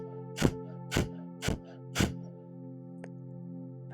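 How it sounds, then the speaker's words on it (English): Four quick, forceful nasal exhalations of breath of fire during a yoga practice, evenly spaced about half a second apart over a steady low background hum, fairly close. "begin to exhale the breath rapidly out the nose"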